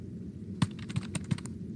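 Quick, light clicks of keys being struck on a computer keyboard, a short irregular burst of several taps heard alone against a soft background hum.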